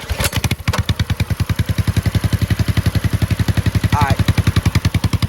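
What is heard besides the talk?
motorcycle engine starting and revving in the cold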